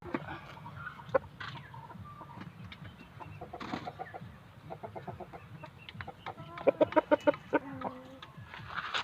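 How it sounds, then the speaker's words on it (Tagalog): Young hens cluck and chatter nearby in a busy, uneven stream, with a quick run of louder clucks near the end. "Mga dumalaga po ito."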